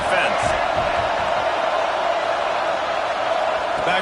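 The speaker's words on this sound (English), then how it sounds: "Listen to this crowd just shaking the girders of this place" College football stadium crowd roaring loudly and steadily to rattle the offense while the home defense is on the field, a dense continuous wash of noise with a commentator talking over it.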